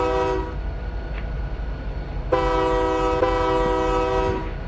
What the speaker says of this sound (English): Or hold the horn.